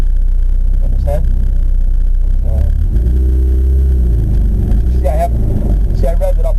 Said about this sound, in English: See, I revved it up a little bit to get started.